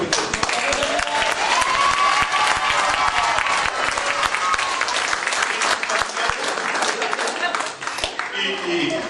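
A crowd at a political campaign meeting breaks into loud, sustained applause, a dense roar of clapping with cheering voices mixed in, easing slightly near the end.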